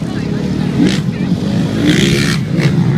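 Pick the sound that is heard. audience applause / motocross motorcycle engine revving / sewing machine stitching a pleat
motocross motorcycle engine revving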